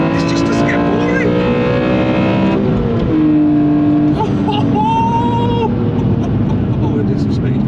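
BMW E46 M3 CSL straight-six with its intake airbox, revving hard with rising and falling harmonic engine tones, loud and close, with a few exclamations from a voice over it.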